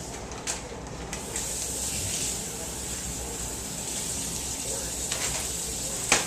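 Water runs steadily from a tap in a home kitchen, a soft continuous hiss with a few faint clinks, fairly quiet throughout.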